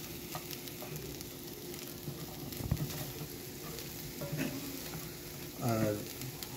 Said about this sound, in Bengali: তো এসবগুলো একসাথে ভালো করে ভেজে নিতে হবে।